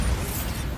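A brief, heavy blast of the Bombarda spell in Hogwarts Legacy, a deep booming burst with a rumbling low end that fills the whole short moment.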